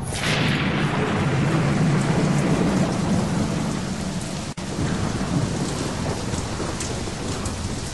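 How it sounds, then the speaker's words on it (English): A wild night thunderstorm: steady heavy rain pours on surfaces while rolling thunder rumbles loudly throughout, with one brief sharp crack midway, and no voices. "Come out of the storm."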